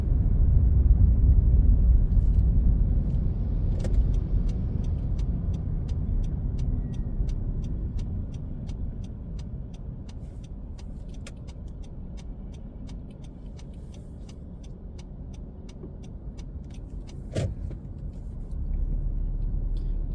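Steady road traffic in Vientiane, Laos, with a continuous low rumble of cars and engines during heavy congestion, plus a brief sharp knock near the end.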